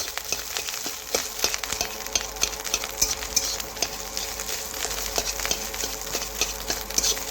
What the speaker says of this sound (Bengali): এজন্যই আমি কিছুটা দুপাশে ভেজে নিয়ে তারপরে খুরপি দিয়ে দেখুন কেটে নিচ্ছি এইভাবে।